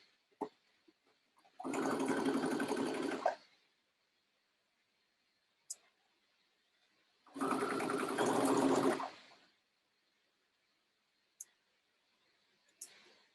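A sewing machine stitches across a seam of a lined dress in two sustained runs of loud, steady whirring, each lasting under two seconds, separated by quiet pauses with a few sharp clicks.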